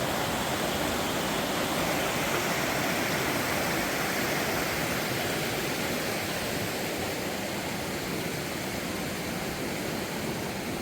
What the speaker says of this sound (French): Et la cascade que j'ai vu tout à l'heure.